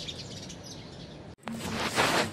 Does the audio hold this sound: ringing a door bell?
no